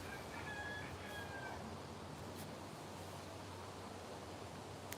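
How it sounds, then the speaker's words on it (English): A rooster crowing outdoors, a short rising call early on heard faintly over steady broadband wind-like background noise, with no talk. "A rooster."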